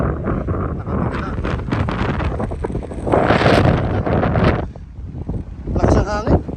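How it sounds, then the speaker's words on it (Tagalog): Strong wind gusts buffet the microphone on a steep mountain trail, loud and roaring in surges, while people talk through it. "Lakas ang hangin."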